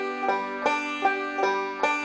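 Banjo forward roll starting on the second string, picked close and clear as a steady stream of bright plucked notes with accented beats recurring about every 0.4 seconds.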